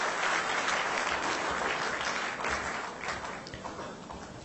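An audience at a corporate awards ceremony claps for the chief guest as he is called on stage, a dense, even round of applause at moderate loudness with no talk over it.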